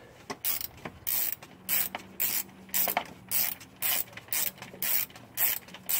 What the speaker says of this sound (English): if you have a swivel ratchet, that's probably going to be the easiest way for you.